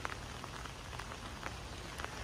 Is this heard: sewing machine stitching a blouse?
no